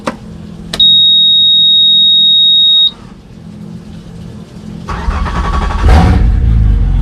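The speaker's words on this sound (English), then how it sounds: "We've got the hose on the motor. We'll see if it starts." A boat motor on a flush hose, preceded by a steady high electronic beep lasting about two seconds, then a pause before the engine cranks and catches into a loud, continuous running rumble.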